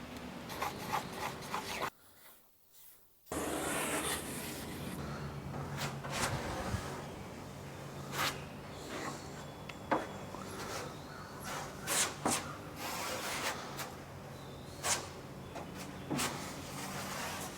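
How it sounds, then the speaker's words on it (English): Bondo body filler being spread and forced over bare metal on a mini truck: close, repeated scraping and rubbing strokes with a short quiet gap near the start, then brief sharp scrapes. "Just skim over the metal, force it in, get good adhesion, and then come over the top to fill everything."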